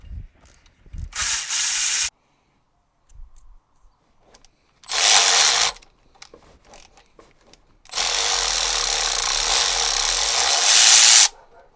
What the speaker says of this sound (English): So now we're gonna take this nut off, and it's a 12mm